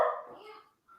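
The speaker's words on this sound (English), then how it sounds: "That's the dog." A single loud, close dog bark rings out and fades, followed by a faint short yelp.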